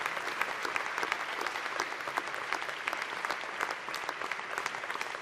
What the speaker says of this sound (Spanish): Y quiero para ellos también un fuerte aplauso